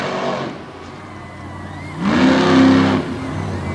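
A monster truck engine at a Renegade monster truck event track revs, setting up for a donut, a loud broadband roar that surges sharply around the middle of the clip before dropping back to a steady drone.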